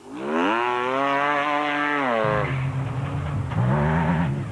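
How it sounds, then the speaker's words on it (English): A Jimco special vehicle races in the Limpopo 400 rally in South Africa. Its engine screams loudly as it revs up, holds high, then drops to a lower roar before surging again. "Battershill is maintaining his special vehicle lead in the Jimco"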